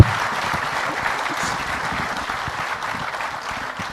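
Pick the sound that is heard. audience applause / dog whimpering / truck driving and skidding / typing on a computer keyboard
audience applause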